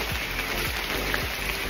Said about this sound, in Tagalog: ngayon, umuulan-ulan na dito sa ating hike.